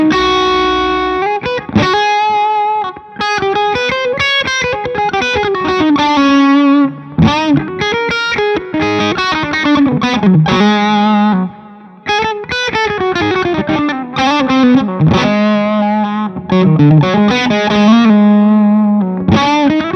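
Gibson ES-335 electric guitar played through its bridge pickup with heavy distortion, a continuous run of chords and riffs sustained loud and close for the whole stretch with brief gaps between phrases.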